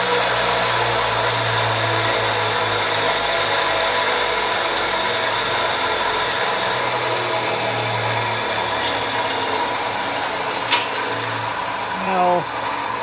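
A homemade 2x72 belt grinder runs steadily with a continuous motor whine and belt hum, close and fairly loud, holding an even drone throughout with a brief click near the end.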